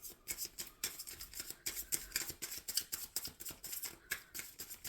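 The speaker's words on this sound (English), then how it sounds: "Shuffling for Leo." Tarot cards being shuffled during a Leo reading, a rapid run of crisp riffling and slapping bursts in an irregular rhythm, close and fairly quiet with no talking.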